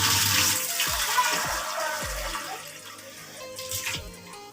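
Water is poured into a cooking pot for jaggery rice, a continuous splashing gush with low gurgles that is fairly loud at first and slowly eases off.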